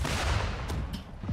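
Ship cannons fire in a naval video game, a dense burst of booming shots and crackling blasts followed by a brief dip and further rumbling.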